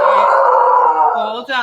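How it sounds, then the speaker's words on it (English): A dog upstairs lets out one loud, drawn-out, howl-like bark that wavers in pitch for nearly two seconds and sounds close and prominent. "The dog upstairs just barked."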